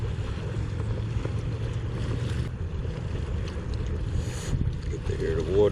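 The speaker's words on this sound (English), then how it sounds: "Get to hear the water" Steady wash of water at a beach, a broad continuous rush with wind noise buffeting the microphone, filling the whole stretch at an even level with no clear voices.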